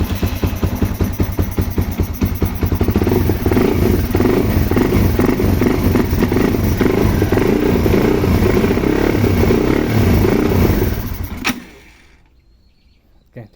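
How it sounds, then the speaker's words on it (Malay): A Yamaha Y15 motorcycle engine with a throttle body and injector fitted idles at low RPM while cold, a loud, close, steady thumping rumble that cuts out abruptly near the end. "kita kena lebihkan sedikit angin supaya enjin boleh terus idling pada RPM bawah dan semasa enjin sejuk"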